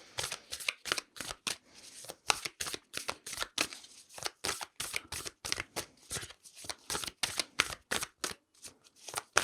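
Tarot cards are shuffled up close in a rapid series of crisp riffling bursts, quiet and steady with brief pauses between them.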